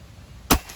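One sharp, close crack of a Bocap CF-X double-plenum PCP air rifle firing, a quick snap over a quiet background.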